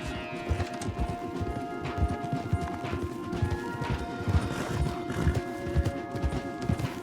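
Horse hooves clip-clopping in Red Dead Redemption 2, a steady, close rhythm of several horses walking along a wooded path, with soft ambient game sounds behind them.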